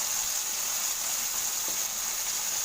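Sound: shallow frying marinated potatoes with salt and pepper

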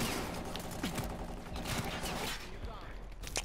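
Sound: sniper rifle quickscope shots in Black Ops 3 video game

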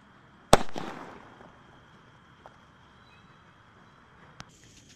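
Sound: Avenger special sky shot firework being lit and fired

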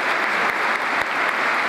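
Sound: applause

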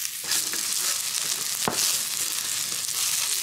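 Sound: onion and garlic frying in a campfire pan

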